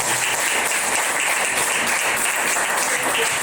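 Church congregation applauding together, a dense, steady wash of many hands clapping that fills the whole stretch at even loudness with no voices over it.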